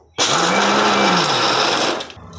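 A kitchen mixer grinder crushes raw peanuts for ladoo. It starts abruptly with a loud, steady high-pitched whir, runs for about two seconds, then winds down and stops.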